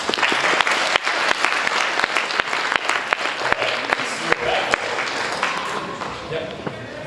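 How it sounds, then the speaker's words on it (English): Audience at a science-fiction and fantasy author event applauding, a brisk burst of many hands with a few sharp individual claps standing out, fairly close and fading toward the end. "Let's give a round of applause."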